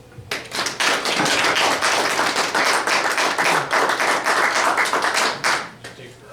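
A room full of people claps steadily for several seconds, the applause rising quickly, holding even, then dying away.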